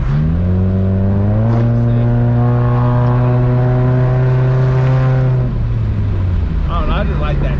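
A Chevrolet Cavalier LS Sport engine revs up close and loud, its tone climbing, holding a steady high drone, then dropping back down, with a voice speaking briefly near the end.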